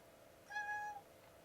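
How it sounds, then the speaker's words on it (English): A pet cat in a home RC hobby workshop gives a single short, clear meow, fairly close, against quiet room background. "Oh, my kitty's here."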